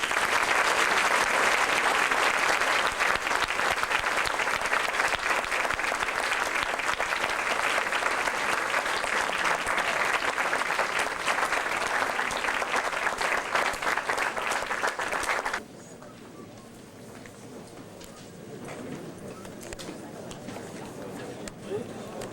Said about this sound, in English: how about a round of applause for our seniors?